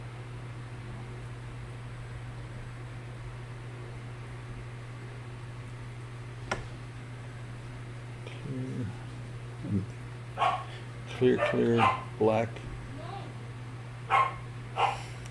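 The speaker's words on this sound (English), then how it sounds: "That would be my grandson's dog." A dog barks in short bursts near the end after a long quiet stretch, with a steady low hum underneath and a few words spoken beforehand.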